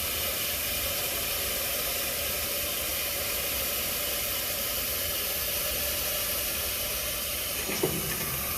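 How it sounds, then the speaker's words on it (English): Steam hisses steadily from the boiler of a Bryan steam tractor during startup, a loud, continuous broadband rush that holds level throughout, with a brief knock near the end. "So our boiler's already making steam"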